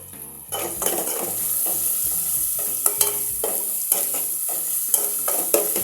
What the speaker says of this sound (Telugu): కొంచెం ఆయిల్ వేస్తున్నాను